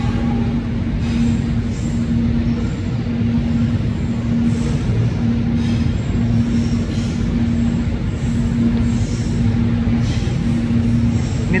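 A loaded coal freight train from Cigading to Nambo rumbles steadily past at close range, a loud and continuous roar of wheels on rail with a sustained metallic squeal and rhythmic clatter from the wagons, with no voices.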